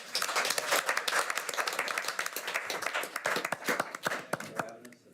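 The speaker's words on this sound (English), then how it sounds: "Applause would be a nice touch now." Scattered clapping from a small crowd at a school board meeting, faint and uneven, with individual claps standing out before it thins and fades at the end.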